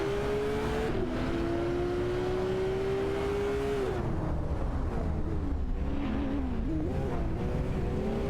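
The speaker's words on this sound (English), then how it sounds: "The battle intensifies between Duff Dad and Danny 20020 in the Lamborghini Aventador Sphere and Lacroix 1980 in the Zenvo Stone for the 10th spot." Video game race cars, including a Lamborghini Aventador and a Zenvo, roar steadily with a sustained high engine whine that shifts pitch as gears change, then blurs into a rougher, fluctuating revving mix of several cars.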